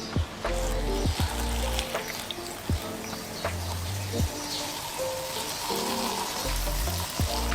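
Metal nuts fizzing in acid to strip old plating, a continuous soft crackling fizz with scattered faint pops, close and alone, over a low background hum.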